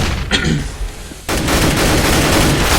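Gunfire in a competitive multiplayer shooter match, a brief shot early on, then a sudden sustained loud burst of rapid automatic fire.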